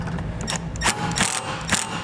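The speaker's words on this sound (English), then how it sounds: "We'll use 2 self-tapping screws to secure it." A hand ratchet clicks in short, quick bursts as self-tapping screws with 5/16 heads are driven into a tow base plate, close and crisp.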